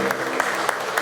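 A church congregation claps during a worship service, a short steady patter of hands with a few sharper accents, moderately loud and fairly close, with no speech over it.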